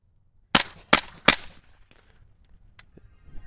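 Suppressed gun firing subsonic ammunition, three sharp muffled shots in quick even succession, close and loud, followed by quiet with faint handling noise.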